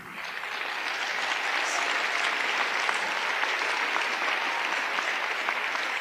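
Loud, sustained applause from a theater audience during a spoken storytelling performance, a dense continuous wash of many hands clapping that swells in and holds steady.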